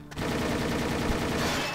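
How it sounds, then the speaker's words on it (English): Enemy gunfire aimed at the player in the Ruff Trigger video game, a loud, dense, continuous automatic burst lasting under two seconds. "Who's shooting me now?"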